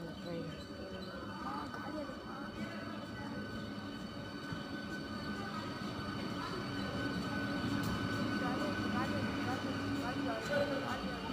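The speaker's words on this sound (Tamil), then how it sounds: "லோக்கல் ட்ரெயின் வந்துருக்கு." A local train rolls past nearby with a steady rumble of wheels on rails and faint squeals, building slightly as it goes, while a voice speaks over it.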